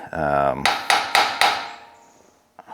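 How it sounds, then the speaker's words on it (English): A hammer strikes the release screw of an old bottle jack, long left outdoors: a ringing metallic ping followed by three sharp, close blows, each fading out, then a faint tap at the end. "So I'm gonna try just hitting the bolt first, or the screw, release screw."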